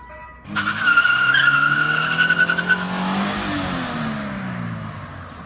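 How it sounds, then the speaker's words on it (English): A 2013 Scion FR-S rebuilt after a wreck does a quick burnout: the engine snaps up to a loud, high rev as the tires break loose into a sustained squealing skid, then the note drops away into a fading tire hiss. "I'll probably put the wheel on and just do a quick burnout"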